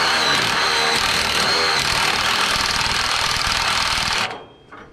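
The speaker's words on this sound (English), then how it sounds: "I got to drill this baby out enough that I can get a nut on here" A power drill bores out a hole in a steel part for a Camaro racecar, a loud, harsh, continuous grinding whine held close for about four seconds before it cuts off and winds down.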